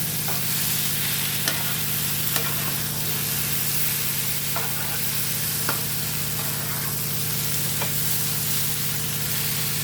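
Food fries in a pan with a constant loud sizzle while scattered scrapes and clicks of stirring cut through and a low hum runs underneath. Nobody speaks.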